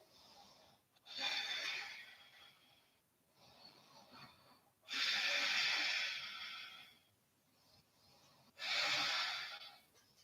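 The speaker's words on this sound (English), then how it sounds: "take a few breaths here." Slow, deep breathing during a yoga pose in a sunrise session, three long airy exhales separated by quieter inhales and pauses, close and clear with no talking.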